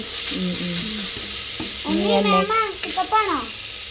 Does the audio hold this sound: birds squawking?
no